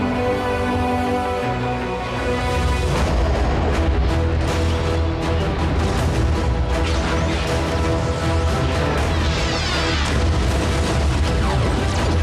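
A rolling boom of an explosion erupts after a sustained musical tone, followed by a long, dense rumble and crashing debris that fills the rest of the stretch.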